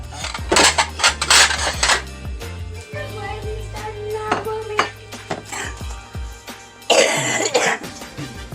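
Plates and dishes clatter in a home kitchen while bologna gravy cooks, a series of sharp ceramic clinks and knocks at close range, with a cough and some throat clearing in between.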